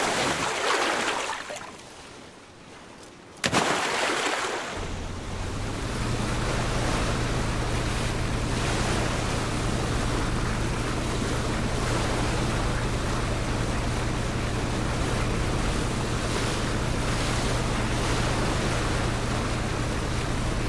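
An Aquarail watercraft in the video game PUBG cruises across water, a steady engine drone joined by rushing wash and spray after a brief quieter start, continuing evenly for the rest of the stretch.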